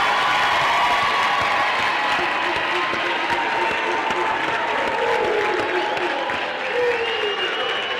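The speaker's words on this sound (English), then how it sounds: "give them the last round of applause in celebration of their achievements" An audience at a Unisa autumn graduation ceremony gives a sustained round of loud, dense applause, a steady wash of many hands clapping with some crowd noise mixed in.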